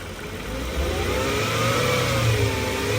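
A Mercedes-Benz engine runs steadily and close by just after an oil change, with a slight rise in revs across three seconds and no talk.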